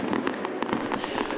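Festival fireworks crackle and burst in a dense, continuous barrage over a dull roar, with several sharper bangs standing out during a town twinning celebration in Fontoy.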